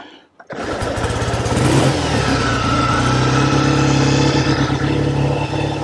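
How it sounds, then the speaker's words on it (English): A rare 1948 Triumph T100 Tiger 500cc motorcycle fires up after a short stutter and settles into a loud, close, steady running engine note with slight revving throughout. "I'm gonna see if I can get it to start first."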